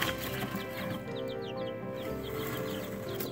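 Young chicks peep softly in a cluster, with rapid high chirps repeating over a steady background hum.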